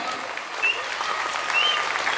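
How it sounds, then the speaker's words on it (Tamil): Applause at a school annual day event, children in the front rows clapping in a steady, fairly loud patter with faint voices mixed in. "ஒரு நல்ல கைத்தட்டுன்னு சொன்னோன்னா முன்னாடி இருக்கக்கூடிய குழந்தைங்க தான் கைத்தட்டுறாங்க"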